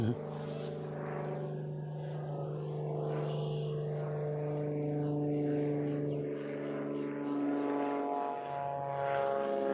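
A propeller airplane passes directly overhead near an airport, a steady droning engine hum that builds and holds strongly for several seconds, with a person talking over it.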